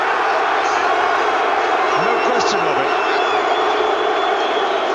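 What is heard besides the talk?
rugby stadium crowd booing the referee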